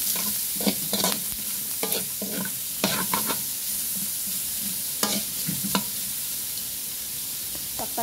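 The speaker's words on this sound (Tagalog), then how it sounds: "Haluin lang natin." Garlic and onion fry in a pan under a constant bright sizzle, with a spatula scraping and tapping in irregular bursts of stirring, close and alone.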